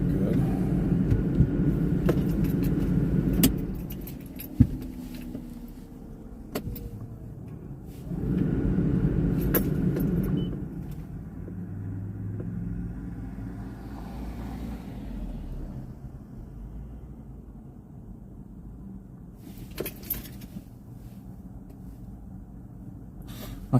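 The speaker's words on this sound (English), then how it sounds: "My car is doing some funky stuff again" A car engine rumbles and labors unevenly, surging in rough low bursts with a few sharp knocks and clicks, fairly close, over a long stretch.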